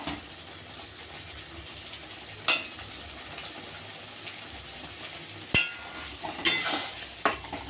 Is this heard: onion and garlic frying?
yes